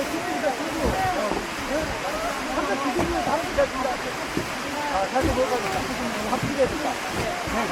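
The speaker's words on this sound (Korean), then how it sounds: "아, 오늘 폭포 중에서 제일 멋있는 폭포입니다." Roaring mountain waterfall, roughly 80 m tall, on a ridge hiking trail, a steady broad rush of falling water that holds throughout with no voices over it.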